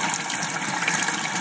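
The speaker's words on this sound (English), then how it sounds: "here it's actually testing the bleach compartment" Water rushes steadily into the bleach compartment of a Maytag washer during its test cycle, a loud continuous gush and hiss with no talk.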